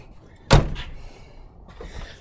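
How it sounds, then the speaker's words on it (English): A single heavy van door slams shut with a solid metallic thud, followed by a brief rattle and quiet afterward. "So, let me shut the doors."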